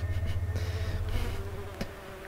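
A fly buzzes as it flies in the video game The Plan, a close, droning, rapidly pulsing whine that fades and thins toward the end, with no voices over it.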